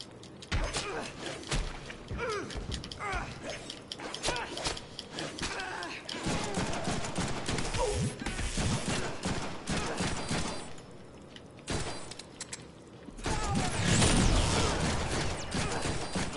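Gunfire in the Deadpool video game, bursts and rapid volleys of shots mixed with impacts and clattering effects, loud and dense, with someone talking over parts of it.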